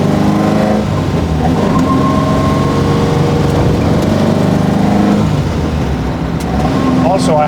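Alfa Romeo 33 race car driven on a public road, its engine revving and pulling hard through a close-ratio gearbox, a loud, continuous, near engine note with rising and falling pitch across the run.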